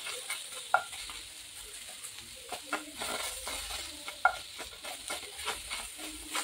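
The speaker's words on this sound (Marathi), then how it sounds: "त्याच्यामध्ये मी टोमॅटो आपल्याला हलकासं भाजून घ्यायचं आहे, थोडंसं हलकासं" Tomato frying lightly with onion in a pan gives a soft continuous sizzle, with several sharp spatula clicks and scrapes against the pan at irregular intervals and no voices.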